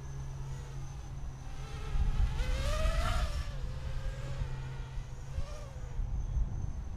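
Diatone Tyrant 215 race quadcopter flown in full acro, a steady high buzzing whine of its motors that swells and shifts pitch as it swoops through tight turns, continuous and fairly close.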